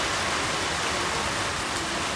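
Steady rain falls on a motorcycle rain cover draped over a Royal Enfield Hunter 350, a continuous even patter with no voices.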